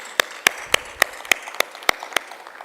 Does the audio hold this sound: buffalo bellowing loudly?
no